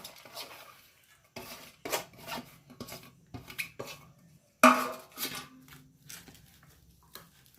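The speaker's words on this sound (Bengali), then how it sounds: "এরপর একটা চামচের সাহায্যে খুব ভালোভাবে এটা মিক্স করে নিচ্ছি" Egg batter with chopped garlic, green chillies, onion, coriander, rice flour and gram flour being mixed with a spoon in a bowl, giving quiet, irregular clinks and scrapes in short bursts with pauses between.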